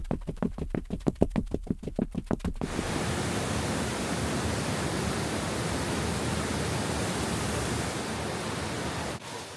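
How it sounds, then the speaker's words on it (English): Water rushes and waterfalls pour steadily along the Gorge Trail, a loud, continuous broadband roar that fills the scene after a few seconds of rhythmic pulsing sound at the start. "you get that lovely sound of water rushing and waterfalls the entire time"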